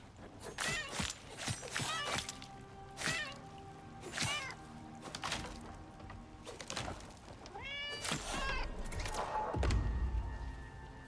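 A cat in the survival video game Icarus meows repeatedly in a series of drawn-out calls, with game footsteps and soft thuds between them and a low rumble near the end.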